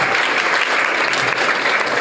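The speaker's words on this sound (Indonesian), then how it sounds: "tepuk tangan buat Rahman Maulana." Audience applause at a gathering on a Politeknik LP3I Jakarta campus in Depok, a steady, dense wash of clapping that stays loud and even from start to end with no voices standing out.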